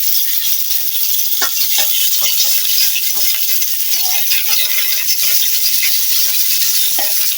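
Fish frying in a pan of oil during preparation of a Bengali fish curry with eggplant and tomato, a steady bright sizzle throughout with scattered soft clinks and scrapes as pieces are turned, close and fairly loud.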